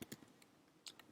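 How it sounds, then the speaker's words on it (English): Keys clack on a computer keyboard while a web address is typed, a few faint quick clicks in a short burst, close but quiet. "You can see me typing it there."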